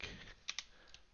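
Fingers type on a computer keyboard, giving a few faint, quick key clicks in a short, quiet burst with no speech.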